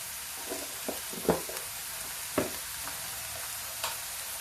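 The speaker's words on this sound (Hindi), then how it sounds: "कम से कम अभी 5 मिनट भूनेंगे इसको" Spinach frying in an iron kadhai makes a low, steady sizzle, with several distinct scraping stirs of a spatula against the metal at irregular intervals and no voices.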